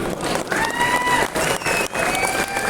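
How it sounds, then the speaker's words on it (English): Applause and cheering from a crowd greet the Drift Games team at the unveiling of their drift Lamborghini Gallardo, loud and steady, with a few whistles and shouts rising over the dense clapping. "So big round of applause to the team."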